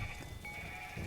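A goat tied on a rope in a garden gives one short, faint bleat, heard alone.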